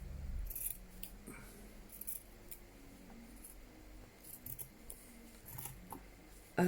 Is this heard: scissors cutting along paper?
yes